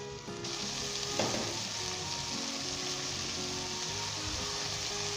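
Moongre, radish pods, hiss and crackle in hot oil in a pan for aloo moongre curry, a steady close sizzle with a soft stir or drop partway through.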